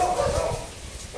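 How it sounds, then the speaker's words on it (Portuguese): Puppies bark and yip in a steady mix on their first day at a farm, near cattle, with continuous low background noise and a voice talking over them. "Começaram a latir, olha."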